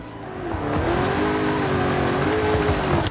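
Long, heavy half-truck drifting in a driving video game: a sustained engine drone with rising revs and tire noise, loud and steady throughout, no talk.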